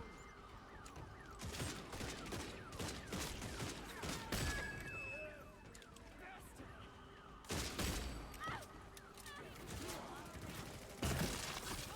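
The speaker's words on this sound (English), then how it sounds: "I'm being fired upon." Gunfire in the Redfall video game crackles in rapid volleys and scattered shots, sharper bursts near the middle and end, mixed with game effects and some speech.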